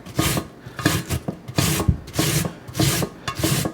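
An onion is rubbed back and forth across a hand grater to shred it for slaw, giving a steady run of about seven loud, close rasping strokes in an even rhythm with no talk.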